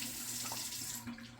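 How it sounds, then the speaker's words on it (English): Hot water runs from a tap in a steady, soft hiss and splash that carries on without a break, faint and close by. "Takes a few minutes to get hot water."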